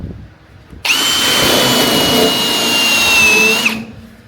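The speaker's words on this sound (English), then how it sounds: "Drill that out." A power drill whirs loudly for about three seconds, a sustained high whine that starts abruptly and cuts off, grinding into the metal floor of a classic car.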